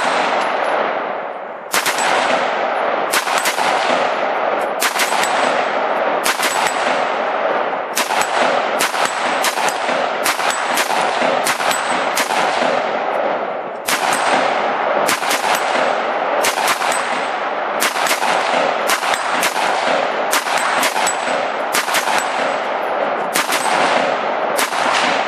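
Two AR-15 rifles firing in a rapid duel at a steel shoot-and-spin dueling tree, sharp loud cracks with ringing metallic clangs coming in quick irregular bursts, with a couple of short pauses.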